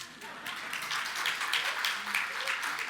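Faint applause rises from a church congregation during a Sunday sermon, a soft spread of clapping hands swelling briefly and then holding at a modest, somewhat distant level.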